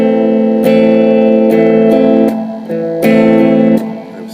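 A beginner's guitar chord is picked string by string with a sad, minor feel, the notes ringing close and loud, then restruck and allowed to sustain before fading.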